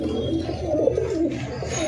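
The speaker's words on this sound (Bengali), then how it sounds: "আপনারা দেখতেছেন কবুতরগুলি কী অ্যাক্টিভ" High flyer pigeons in a loft give low, throaty, rolling coos close by, with the calls overlapping in restless bursts as the birds scuffle and fight.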